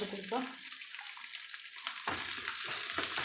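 Green chilli, ginger and garlic saute in oil in a pan on a home stove, giving a steady, close frying sizzle with brief stirring scrapes, loudest at the start and again after a short dip.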